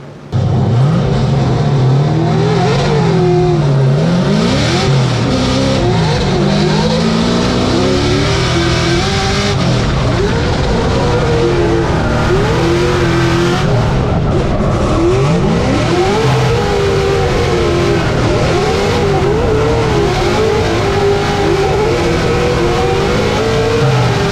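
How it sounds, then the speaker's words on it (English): Drift cars racing in an arena-style Formula Drift event in New Jersey, with loud continuous engine roar, rising and falling revs and shifts throughout, heard alone and up close. "Switch things up here with Josh Love going to the lead"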